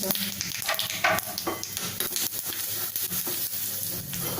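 Asafoetida tempering with mustard seeds sizzling in hot oil in a kadhai, a close, steady hiss with scattered crackles and a few stirring scrapes.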